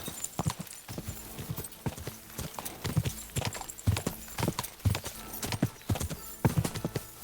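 Horse hooves clip-clop at a steady galloping rhythm in Kingdom Come: Deliverance II, close and fairly loud, with a brief whinny-like tone, no talk.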